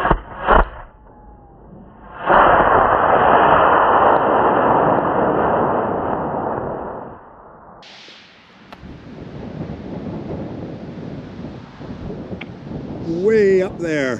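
Model rocket launching on an E26 motor: a sudden loud roaring burn that lasts about five seconds and then fades, followed by wind noise on the microphone and people talking.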